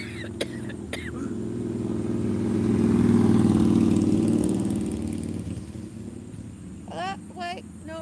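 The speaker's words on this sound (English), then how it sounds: "It was a nice motorbike." A motorbike engine rumbles steadily nearby, swelling a little in the middle then settling, with a few brief voice-like sounds at the start and end.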